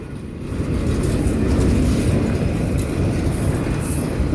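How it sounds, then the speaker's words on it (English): A long Union Pacific freight train led by a rare SD-75 locomotive rolls past, making a steady loud rumble of railcars with faint wheel squeals and no speech. "the train's about to end"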